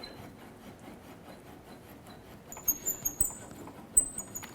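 A bolt is worked out of the front lower control arm of a 2008-2012 Honda Accord, with quiet rubbing at first, then squeaky metallic scrapes and small knocks in short bursts near the end.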